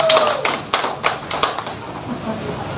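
Congregation clapping in a church healing service, a run of crisp overlapping hand claps that is loud at first, then thins out and tapers into a softer murmur of the room.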